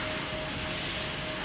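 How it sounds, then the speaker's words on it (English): United Airlines Boeing 787-10 Dreamliner jet engine roar at Chicago O'Hare just after takeoff, a steady broad rumble heard from a distance. "The aircraft that just took off was United Airlines Flight 972 to Brussels on a 787-10 Dreamliner."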